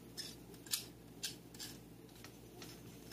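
Crispy fried pork belly crunches in a few sharp, crackly snaps spaced about half a second apart. The bites are close but faint over a quiet background hiss.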